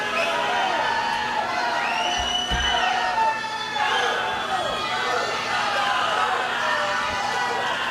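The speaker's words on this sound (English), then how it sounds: "Oh, I hear the crowd getting into it a little bit more." Crowd cheering and chattering at a high school boys sectional swimming preliminary meet in Warsaw, a steady indoor roar with a few whoops, continuous throughout.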